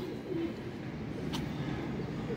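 A female pigeon coos softly, a low murmuring call heard faintly and close by against a quiet background.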